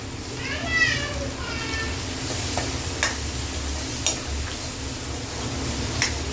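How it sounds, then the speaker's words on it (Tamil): A steady sizzle of chopped onions sautéing in a pan for fish kurma, with occasional stirring clicks and scrapes, while someone speaks over it. "இது கொஞ்சம் நம்ம வதங்க வைக்கலாம்"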